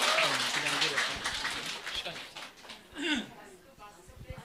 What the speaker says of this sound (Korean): 박수, 큰 박수 주시기 바라요.